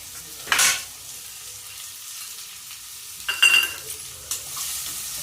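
Rice roasting in a little oil in a pan, stirred now and then, giving a faint steady sizzle broken by a few brief scraping stirs, close and without talk.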